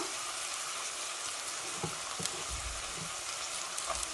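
Onion fries in a pan for Punjabi tadka dal, producing a continuous close sizzle with soft crackles and a few low knocks of stirring and handling, with no talking.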